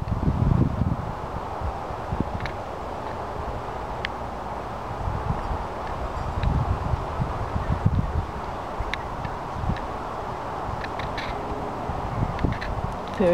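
Gusty wind blows outdoors in a garden with periwinkle flowers, a steady low rumble buffeting the microphone in uneven surges for the whole stretch, with faint leafy rustle and no voices.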